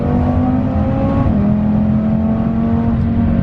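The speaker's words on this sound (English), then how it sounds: "I think we might be testing out launch control." A 500-horsepower Audi RS3 holds a loud, steady engine drone with a sustained whir, heard from inside the car while testing launch control; the pitch shifts slightly partway through and there is no speech.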